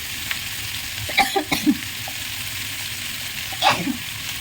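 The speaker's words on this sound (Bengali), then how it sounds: "ধীরে সুন্দর করে ভেজে নিচ্ছি এইটা" Hilsa fish and elephant foot yam fry gently in a pan, a soft sizzle with a few brief stirring scrapes and clatters in two short bursts.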